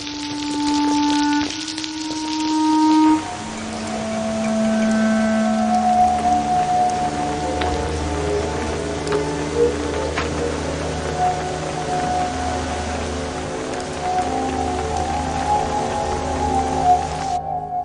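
Steady rain hisses continuously, with a low droning tone underneath and occasional faint patters.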